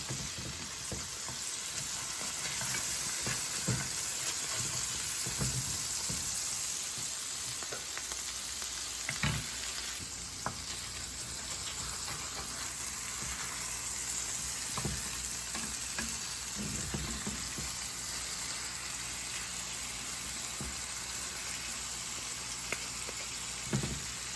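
Masala fish frying in an uncovered pan, a continuous hissing sizzle with scattered clicks and scrapes of a spatula as the pieces are turned, close and steady throughout, with no talking.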